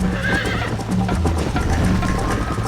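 A horse gallops hard during a race in Red Dead Redemption, its steady clip-clopping hoofbeats pounding close and loud, with a whinny and snorts rising over the rhythm.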